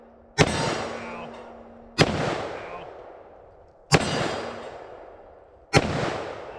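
Four loud, close gunshots from a Taurus .44 Magnum revolver ring out about two seconds apart, each a sharp blast followed by a long booming echo that fades before the next shot.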